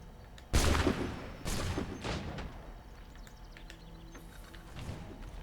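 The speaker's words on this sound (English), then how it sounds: "These guns have to be incredibly loud." Gunfire in the video game Assassin's Creed III, set in Boston: a couple of loud sharp shots ring out close, followed by scattered fainter shots and echoes trailing off.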